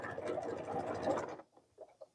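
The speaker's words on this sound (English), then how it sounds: "we are going to stitch across these seam allowances" Domestic sewing machine stitching across pressed, nested quilt seam allowances during quilt-along piecing, a steady close whirring run of about a second and a half that stops, followed by a few faint light handling sounds.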